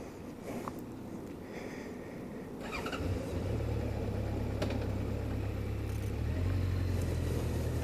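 Honda CB1100 motorcycle engine running close by, a low steady throb that swells and firms up partway through, with a few faint clicks and handling noises scattered over it.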